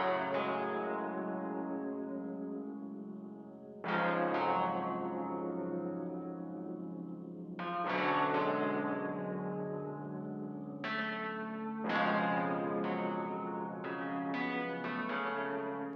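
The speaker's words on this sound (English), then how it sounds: "the first sound we have is this ROM 1A piano from Analog Lab." Gritty, distorted ROM 1A piano patch from Analog Lab playing slow, dark chords, each struck chord ringing and decaying with a bell-like, lo-fi tone, alone and at moderate volume.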